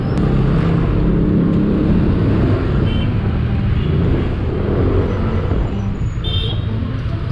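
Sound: morning road traffic in Tondo, Manila

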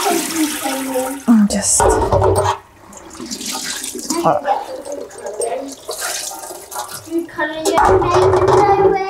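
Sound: water rinsing naturally dyed fabric

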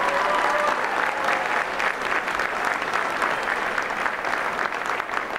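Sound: applause at watch party for Dave Reichert

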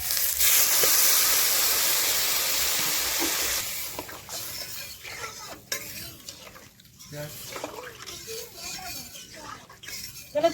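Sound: water added to fried spices, fish curry simmering

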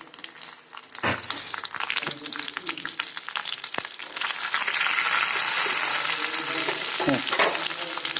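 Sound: garlic, urad dal and sesame roasting in oil, stirred

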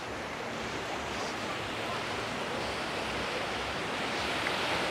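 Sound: beach with surf in Canasvieiras, Florianópolis

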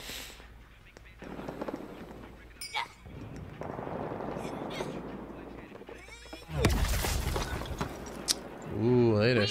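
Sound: gunshots in Suicide Squad video game trailer

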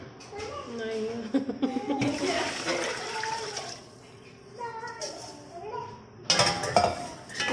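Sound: pouring water into rice pot

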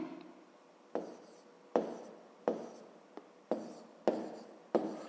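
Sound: writing by hand on paper

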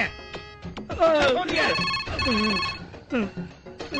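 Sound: telephone ringing

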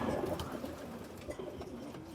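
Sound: racing pigeon cooing

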